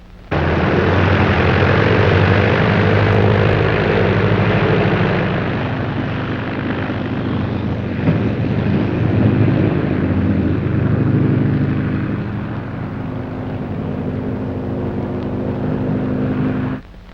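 A propeller airplane engine drones in flight, a loud, continuous rumbling roar that swells and eases slightly over the span, with no voices over it.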